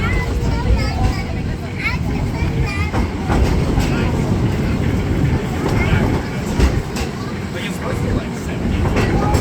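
Railroad train ride at Magic Kingdom, with a steady rumble of the train rolling along the track and faint clickety-clack, while people talk over the continuous noise.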